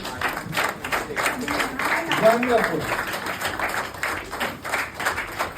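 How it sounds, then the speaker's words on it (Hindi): An audience at a business meeting bursts into steady, energetic clapping that rises and holds for several seconds, with a voice speaking over the applause. "एक बार जोरदार तालियां।"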